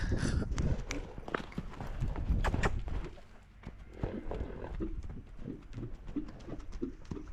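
A horse trotting while being worked on a lead, with rhythmic hoof beats and shuffling steps under a voice, plus bird chirps in the background.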